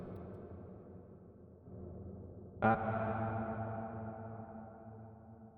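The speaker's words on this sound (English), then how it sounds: "I want to show you one of my favorite reverb plugins" A hushed synthetic tone gives way to a sudden bright hit that blooms into a long, wavering concert-hall reverb tail from a reverb plugin, slowly fading with a slight warble.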